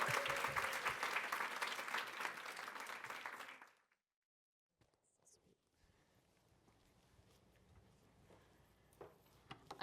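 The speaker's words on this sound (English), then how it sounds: "please let us give her a warm tiger roar and clap." Audience members at a business college event clap to welcome a speaker to the stage. The steady, moderately faint applause lasts about four seconds and cuts off abruptly, leaving a quiet room with occasional soft shuffles.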